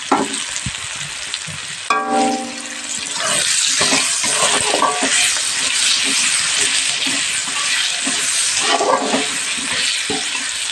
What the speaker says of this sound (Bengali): পেঁয়াজটা আমি ব্রাউন ব্রাউন করে ভেজে নেব